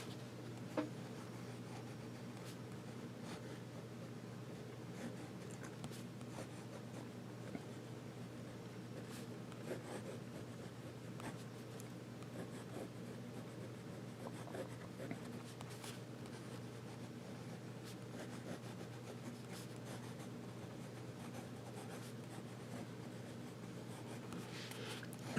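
A fine-nib Hero 565 fountain pen scratches softly across paper in looping swirls, faint continuous strokes over a quiet room hum, close and without talk.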